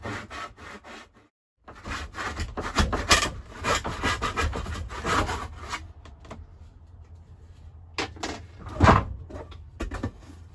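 Hand saw cutting through 2x4 lumber held in a miter box, with repeated close rasping strokes in a steady back-and-forth rhythm, a brief pause near the start and a louder stroke toward the end.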